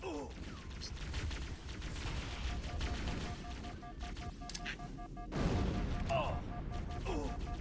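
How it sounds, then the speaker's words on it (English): A plasma grenade detonates among Covenant enemies in Halo on the Pillar of Autumn, amid a dense wash of gunfire and explosions, with a louder boom partway through and continuous battle noise throughout. "And throw a plasma grenade."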